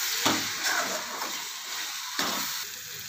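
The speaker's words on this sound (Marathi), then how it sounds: "हे सर्व छान मिक्स करून घ्यायचं" A fresh turmeric mixture with Byadgi chili powder and salt sizzles in a pan while being stirred, giving a steady close frying hiss broken by a few soft scraping strokes.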